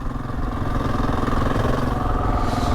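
A motorbike ride along a busy street lined with parked cars: a steady, close engine drone with a rough mechanical rattle runs unbroken throughout, with no voices.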